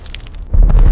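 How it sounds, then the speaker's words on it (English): A deep, heavy boom from a bunker-penetrating missile striking reinforced concrete, one short, loud low-frequency impact that swells and rumbles after a brief hiss. "The impact is not an outward explosion, but a deep, powerful implosion that collapses the structure from within."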